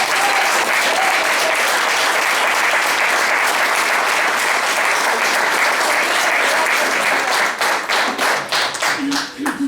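A church congregation applauds at length, with dense continuous clapping that thins into scattered claps near the end.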